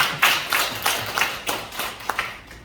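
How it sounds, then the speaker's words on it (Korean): Audience at a civic association's first-anniversary ceremony and human rights award event claps in a short burst of separate, uneven hand claps that taper off over a couple of seconds. "박수 다시 한번 부탁드리겠습니다."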